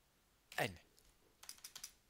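Keys on a computer keyboard clack in a few quick, close taps, an opening burst followed by a light cluster of strokes in a quiet room.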